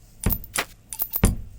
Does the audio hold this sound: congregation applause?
no